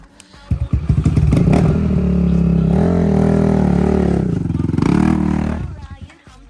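A dirt motorcycle labors through a muddy swamp track, its engine revving loud and close for several seconds with clatter and thumps, then fading as it moves off.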